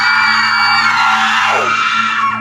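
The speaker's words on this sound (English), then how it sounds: "producing a blood-curdling, inhuman screech that rattled through my bones and echoed through the forest around us" An inhuman creature in a forest gives a loud, sustained, screeching scream that holds high and piercing, then bends downward near the end. It is heard close and alone, with no talk.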